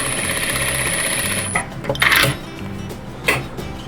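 A sewing machine runs a quilt seam with a steady close mechanical whir, then stops and gives way to a few scattered clicks and handling knocks.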